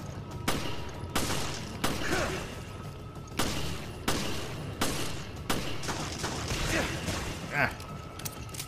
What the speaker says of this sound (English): Not used to those 7 shots.